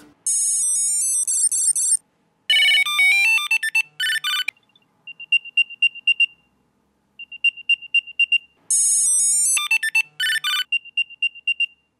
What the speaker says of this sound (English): let's compare the speaker on the AirTag to the tiles.